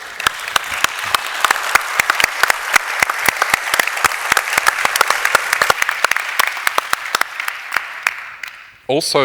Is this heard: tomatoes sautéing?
no